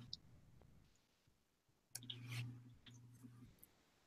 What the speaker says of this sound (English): Sorry if you guys can hear my chewing.